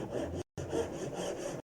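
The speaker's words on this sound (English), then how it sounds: "I will start my cut and extend the kerf along the waist" A Japanese dozuki saw cuts a kerf into wood along a layout line, giving close, steady rasping strokes that run continuously, pause briefly, then resume.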